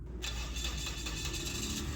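A car engine starts after a water pump, belt and water body replacement, cranking briefly after a short pause and then catching into a steady, fairly loud idle close by.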